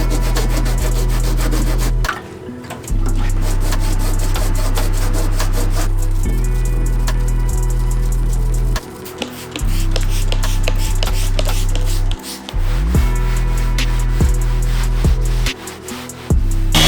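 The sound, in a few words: sanding and polishing truck paint with a pad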